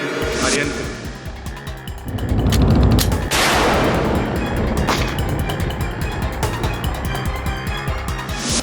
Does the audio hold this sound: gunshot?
yes